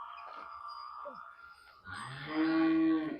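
A water buffalo close to calving lets out a deep, drawn-out moo at close range, rising in loudness toward the end, with softer murmuring and a faint hum beforehand.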